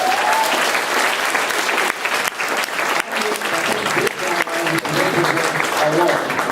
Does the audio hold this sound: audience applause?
yes